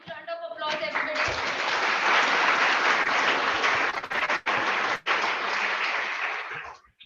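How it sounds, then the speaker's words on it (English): Sustained applause from a national conference audience swells up after a brief voice and holds loud and dense for several seconds, with a couple of short dips, before fading out. "A huge round of applause, everybody."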